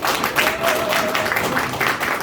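An audience claps at a political launch ceremony for a Jeonbuk basic society committee, producing a dense, steady patter of applause that stays fairly loud throughout.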